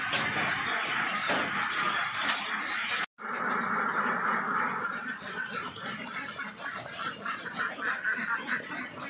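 A flock of Khaki Campbell ducks quacks continuously in a dense, overlapping chorus as they are let out of their pen, heard fairly close with a brief cut partway through.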